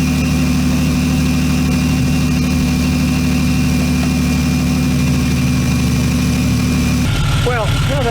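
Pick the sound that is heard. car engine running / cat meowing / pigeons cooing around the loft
car engine running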